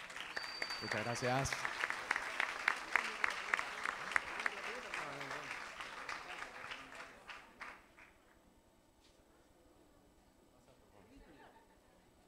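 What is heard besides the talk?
audience applause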